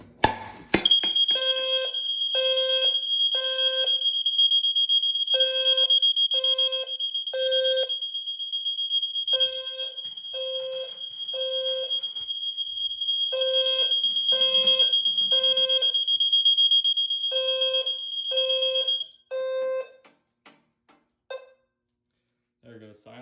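A Notifier SFP-1024 fire alarm system sounds after a pull station is activated, giving a steady high-pitched electronic tone with a repeating pulsed temporal pattern of three beeps per group, loud and close for about eighteen seconds, then cutting off when silenced.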